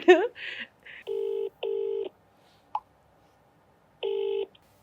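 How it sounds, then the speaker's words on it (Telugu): A phone dials a call, giving a brief rising tone and then a few evenly spaced keypad beeps with short gaps between them. "సో ఏదో ఒకసారి నీ కొడుక్కి ఫోన్ చేయి"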